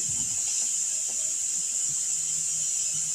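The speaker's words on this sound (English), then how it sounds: "That noise is the Instant Pot." An Instant Pot in a home kitchen gives off a steady, high hissing whine like venting steam, continuous and fairly loud, with faint clatter of cooking handled nearby.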